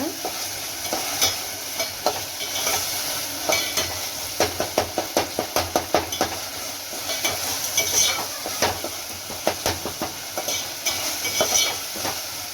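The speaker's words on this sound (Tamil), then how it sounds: "வெங்காய தக்காளி நல்லா வதங்குங்க." Onions and tomatoes sauté in a pan for a vegetable kurma, with a steady close sizzle and repeated scraping stirs of a spoon against the pan, sharp clicks coming in bursts throughout.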